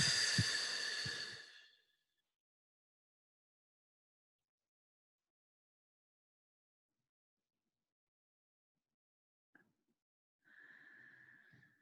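A slow, deep breath during a guided meditation: one long, soft airy exhale lasts about two seconds, followed by a long silence, then another quiet breath starts near the end.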